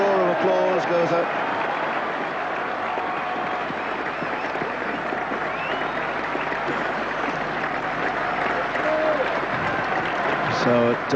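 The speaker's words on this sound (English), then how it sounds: "Great roar of applause goes up." Spectators at a 1982 England versus Pakistan Test cricket match break into a sustained roar of applause, a broad, distant crowd wash with scattered clapping running throughout under a commentator's voice.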